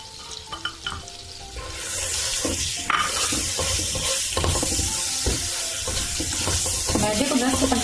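Flour is stirred and roasted in melted butter in a pan, giving a close sizzle with scraping spoon strokes and clinks, getting busier partway through.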